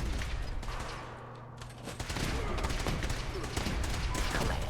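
Rapid bursts of automatic gunfire from a new Horizon mod weapon in Fallout 4, dense overlapping shots with a short lull before the firing resumes louder and keeps going.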